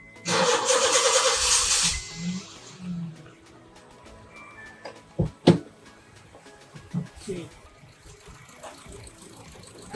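A car engine cranks and catches after its fuel injectors are cleaned, a loud roar for about two seconds followed by quieter knocks and clunks nearby.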